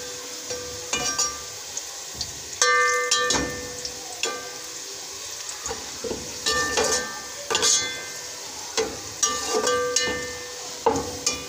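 Onions frying in a pan for aloo methi crackle with a steady sizzle, broken by repeated scraping stirs and clinks of a spoon against the pan.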